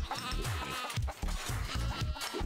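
Sheep bleat repeatedly in the video game Moving Out 2, several short wavering calls following each other over steady game music and low thumping sounds.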